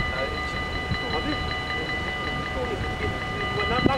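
Train slowly passing a level crossing in Susteren, a continuous rumble with steady rolling noise and a faint ringing tone from the crossing signal, people talking nearby underneath.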